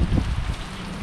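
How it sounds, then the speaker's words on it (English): Steady rain pours down during a trip in Northern Vietnam, a dense, even hiss of drops hitting surfaces with low rumbling texture, continuous and fairly close throughout. "So we will wait for the rain to stop"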